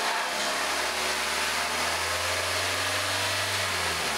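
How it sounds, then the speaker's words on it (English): A car engine revs under electrical load during a charging system test, a loud steady drone whose pitch climbs and holds, heard close with no talk. "Now rev the engine with the load on."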